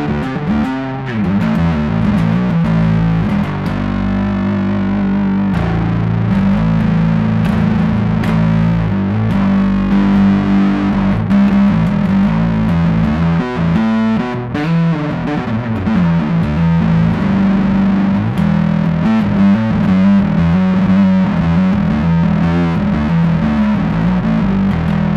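Bass guitar through an Ashdown Lomenzo Hyperdrive overdrive pedal, giving a hairy, fuzzy distorted tone as a continuous riff plays loud and alone for about twenty-five seconds.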